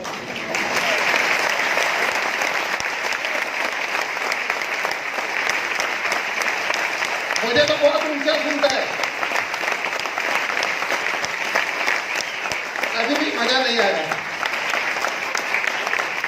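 Steady, loud applause from a large audience at a Mi Diamond Executive gathering, clapping continuous throughout while someone talks over it.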